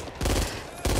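Machine gun fire in the zombie shooter Back 4 Blood, two short bursts of rapid shots close up, with a brief gap between them and no speech.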